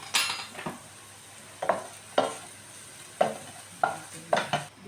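Chicken and fish sauce cooking in a pot for arroz caldo, with a soft simmering hiss under a series of sharp spoon clinks and stirring knocks against the pot at irregular intervals.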